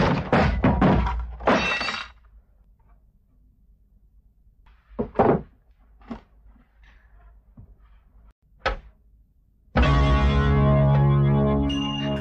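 A family photo frame falls and shatters after a door slams hard: several sharp crashes and thunks come early, then isolated knocks, before a burst of music swells in at the end.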